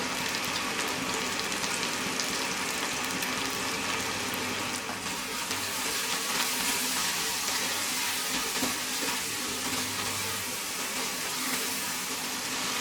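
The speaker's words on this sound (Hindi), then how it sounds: "अब इनको खूब अच्छी तरह सौटे करेंगे।" Green chilies sauté in a pan for a homemade green chili sauce, giving a steady, loud sizzling hiss with crackle that runs unbroken for the whole stretch, with no talking over it.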